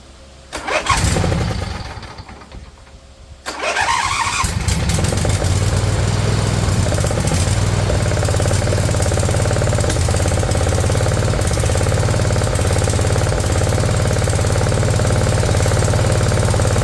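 An Intek V-twin engine fitted in place of a blown Kohler Courage cranks over briefly, stops, then catches and settles into a loud, steady running drone nearby, with no one speaking.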